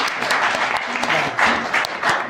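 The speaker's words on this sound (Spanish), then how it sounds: "Ahora sí que un aplauso por favor" Audience applause at a comic event, as a graphic-novel talk is handed over to its moderator: close, dense clapping that swells in several bursts over a couple of seconds.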